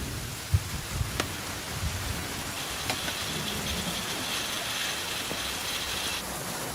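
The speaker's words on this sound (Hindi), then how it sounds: "हाँ यहाँ पर बारिश हो रही है" Rain falls steadily in a dense, even hiss, with a few sharp clicks and a low rumble underneath, and nobody speaks.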